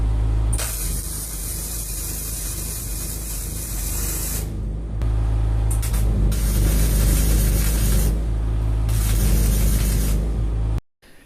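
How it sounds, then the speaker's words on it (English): Aerosol can of Colgao coating sprayed onto ground-flat welds holding a steel frame on a container, steady close hissing bursts, one long pass and two more after brief pauses, no talk. "I grind them flat and then I spray them with Colgao."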